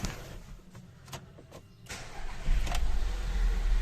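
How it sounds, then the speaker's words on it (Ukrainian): A 2008 VW Passat B6 1.8 TSI engine cranks and catches, then settles into a loud, steady idle close by. "двигун запускається з півоборта, ніяких помилок у нас немає"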